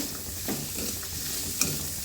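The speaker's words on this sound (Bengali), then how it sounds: "পেঁয়াজ আর গাজরটা কিছুক্ষণ ভেজে নেব।" Chopped onion and carrot sizzling in a pan while being stirred, a continuous hiss broken by a few soft scraping strokes and one small clack, close and steady.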